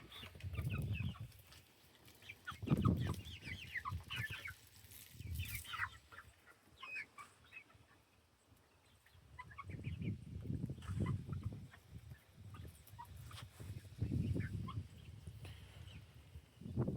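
Farm chickens clucking and calling close by, in bursts that rise and fall with quieter gaps, a few higher squawks scattered through.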